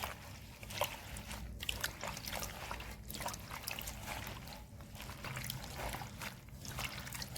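Soft splashing and trickling water, steady and close, with faint sloshing as hadga (agati) flowers are gently rinsed by hand; no voices.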